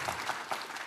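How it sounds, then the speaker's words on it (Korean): Audience applause at a panel talk event, a steady wash of many hands clapping throughout the short moment with no voices over it. "네, 박수 한번 하실까요?"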